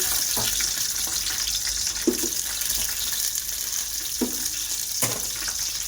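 Green chilies sizzle steadily in hot oil in a pan for prawn biryani, a continuous frying hiss with a few soft stirring knocks spaced through it, close and moderately loud, no talking.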